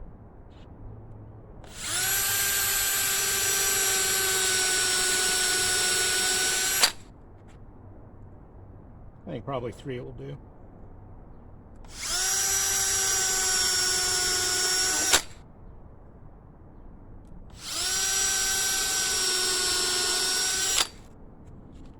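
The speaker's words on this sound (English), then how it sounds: "I'm going to start by pre-drilling the holes with a countersink bit so that the screws are flush with the top." A power drill with a countersink bit pre-drills screw holes in wood, three sustained whining runs of several seconds each with pauses between, and someone speaks briefly during one of the gaps.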